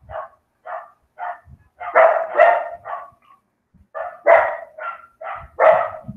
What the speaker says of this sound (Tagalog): Maingay ang aso mo.